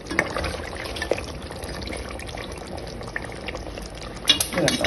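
A meat curry for kappa biriyani simmers in a pot, giving a steady bubbling and boiling texture with small pops and a few sharper clinks near the end, close and moderately loud.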